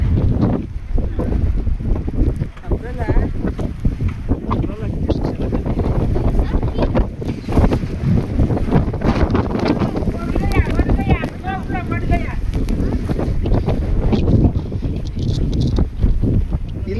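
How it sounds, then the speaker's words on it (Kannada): Strong wind buffets the microphone outdoors, producing continuous heavy rumbling gusts throughout, with people talking under the noise. "ಇಲ್ಲಿ ಗಾಳಿ ಇದೆ, ಆ ಕಡೆ ಗಾಳಿ ಇಲ್ಲ,"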